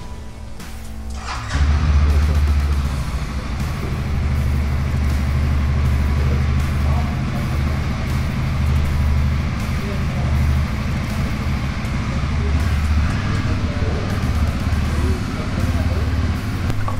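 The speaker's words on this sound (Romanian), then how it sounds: "Pornim motorul, lăsăm să meargă câteva zeci de secunde" A CF Moto CForce 1000 ATV engine starts after a moment of quiet, then settles into a loud, steady, low idle that runs unbroken close by.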